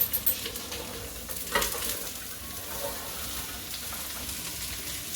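Vegetables hiss and crackle in a hot pan in a steady, fairly quiet sizzle with a few brief louder spits near the start, and no talk over it.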